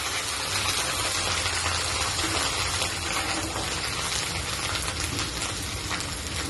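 Ginger paste frying in a hot pan of oil for a Bengali doodh shukto, a steady, loud, hissing sizzle that holds unbroken throughout.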